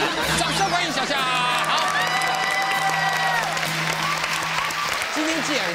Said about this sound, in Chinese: 掌声欢迎小夏